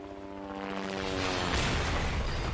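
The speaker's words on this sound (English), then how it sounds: "There goes the chopper." A helicopter in Resident Evil 2 VR passes by, its rotor thump rising from a distant drone to a loud, broad roar that swells and stays heavy to the end, with no talking.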